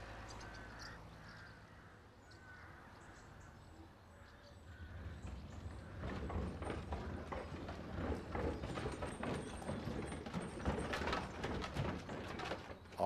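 Hooves of Rotherfield Duke, a Shire horse, clip-clop in an uneven run of close, steady steps that start faint and grow louder and denser over a low outdoor rumble, with crows cawing now and then.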